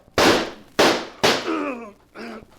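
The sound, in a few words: gunshots fired at a fleeing man, radio drama sound effect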